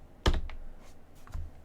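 Two crisp, close keystrokes on a computer keyboard while a command is entered, the first sharp and loud, the second softer about a second later, with no voices.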